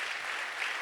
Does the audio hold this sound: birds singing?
no